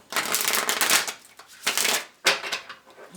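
Tarot cards being shuffled up close in three riffling bursts, each a rapid papery flutter ending with a short pause before the next, no speech.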